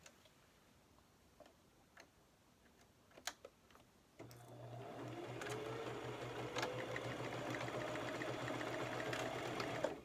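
A sewing machine stitches a seam on 8-inch fabric squares, starting after a few seconds of quiet scattered ticks and then running steadily with a close, continuous whirring hum until the end.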